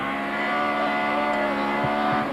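A Subaru rally car runs on a stage of the Tour Natal rally in South Africa, its steady engine drone holding loud and close throughout, with a few brief sharper bursts near the end.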